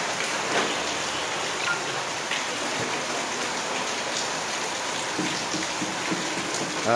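Steady rain falls in Dinajpur during a sun-shower, a constant, even hiss of drops that stays fairly loud throughout without breaks.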